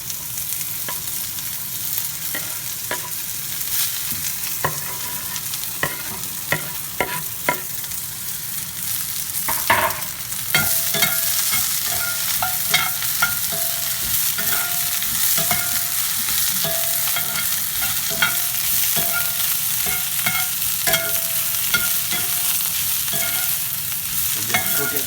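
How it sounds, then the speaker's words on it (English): Onions and shiitake mushrooms fry in a hot pan with a steady, close sizzle, louder after the first ten seconds, broken by repeated sharp clicks and scrapes of stirring. "let's sweat our onions"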